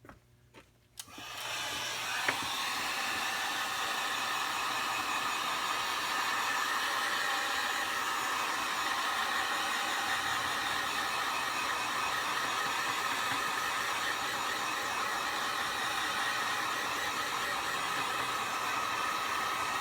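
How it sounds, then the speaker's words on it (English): A heat gun blasts steadily over alcohol ink on aluminum, switching on after a brief handling noise and then roaring as a constant loud hiss for the rest of the time. "so I'm going to hit it with a heat gun real quick."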